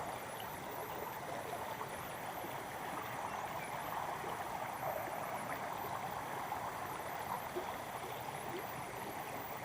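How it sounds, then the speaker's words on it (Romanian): A river in the Balchik botanical garden flows with a steady, even rushing hiss, soft and continuous, with no voices over it. "Sunetul e mirific, sunetul râului."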